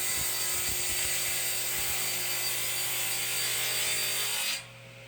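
Power saw cutting wood held in a jig for a spiral Christmas tree, a loud continuous whining buzz with rubbing and scraping texture that stops abruptly near the end, leaving a low hum.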